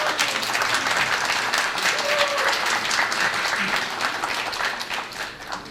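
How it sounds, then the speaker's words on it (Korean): An audience at a Korea Startup Forum event breaks into sustained, loud applause that holds steady for several seconds, with a voice faintly audible beneath it. "여러분 큰 박수 한번 부탁드리겠습니다."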